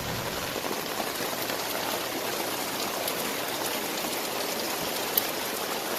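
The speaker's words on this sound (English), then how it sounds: "Finally, it's raining." Steady, even rain falls outside an RV at night, a dense continuous patter with one brief louder drop, heard alone without talking.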